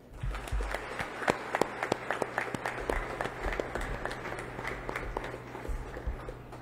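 Applause from assembled troops and guests at the Eastern Mindanao Command in Davao City welcoming the Philippine President, distinct sharp claps over a low steady hum, moderately loud and continuous.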